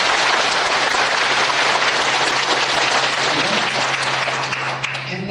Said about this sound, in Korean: 우리 하나님께 감사의 영광의 박수 힘차게 하고 싶습니다